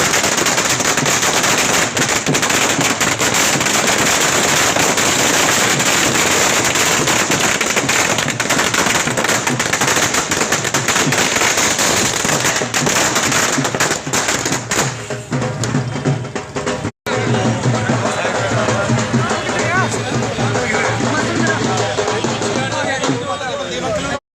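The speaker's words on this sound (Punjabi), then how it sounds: "ਖੁਸ਼ੀ ਜ਼ਾਹਰ ਕਰਦੇ ਹੋਏ ਪਟਾਕਿਆਂ ਦੀਆਂ ਲੜੀਆਂ ਚਲਾਈਆਂ ਜਾ ਰਹੀਆਂ ਨੇ" Strings of firecrackers set off by Congress supporters celebrating a Punjab government decision for farmers crackle loudly in a dense, unbroken rattle for about fifteen seconds, then give way to scattered pops and a crowd murmur.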